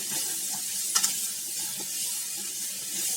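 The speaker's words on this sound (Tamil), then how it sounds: "திரும்ப கொஞ்சம் நல்லா வதக்கிக்கலாம்." Drumstick pieces sauté in a pan with turmeric and sambar powder, making a steady close sizzle broken by a couple of brief stirring scrapes, with no voices.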